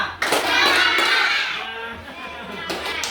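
A classroom of children claps in a counting hand-clapping game, a quick cluster of claps with children's voices, then quieter chatter and a final few claps.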